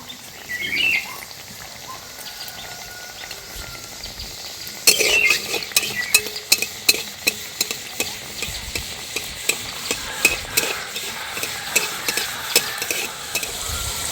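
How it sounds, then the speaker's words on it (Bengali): Pitha pieces made from flour and sugar frying in hot oil in a wok, a dense bubbling sizzle that jumps louder midway as pieces drop in, with clinks and stirring taps, close and without talk. "তেলটা গরম হয়ে গেছে এগুলো একটা একটা করে দিয়ে ভেজে নেব"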